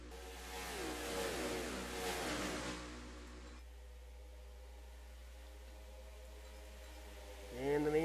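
Race cars at the IMRC All-Star Finale accelerate down the stretch, their engines whining up in pitch and then fading into a faint, steady distant drone, with another rising rev at the very end.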